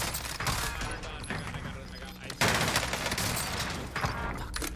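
Gunfire in the video game Warzone, with a buffed Fennec submachine gun in play: dense bursts of rapid automatic shots, loud and close, continuing throughout.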